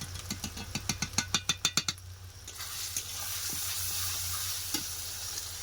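Spice masala with turmeric, chilli powder and salt is fried in oil for a poultry chicken curry: about a dozen quick rhythmic stirring scrapes, then a continuous close sizzle with occasional spoon knocks.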